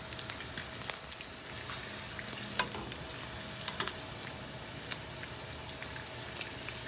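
Suman frying in a pan with very little cooking oil, a steady close crackling sizzle with scattered sharp pops throughout, no talking.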